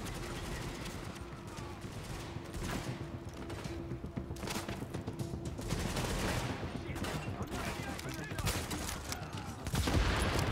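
Dense gunfire in a shooter video game, a continuous clatter of overlapping shots and thuds with a steady background hum, loudest near the end, while voices talk faintly underneath.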